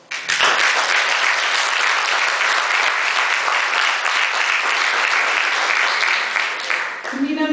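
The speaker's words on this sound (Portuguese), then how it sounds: "que eu agora peço o vosso aplauso." An audience applauds continuously in the auditorium of a library in Pombal during a 2012 concert evening, the sustained dense clapping loud and steady for several seconds before tapering off at the end.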